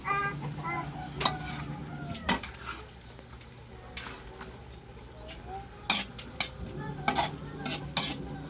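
Squid being stirred in a frying pan for a home-cooked meal, with steady sizzling and intermittent scraping clinks of a utensil against the pan, close and moderately loud, no voices.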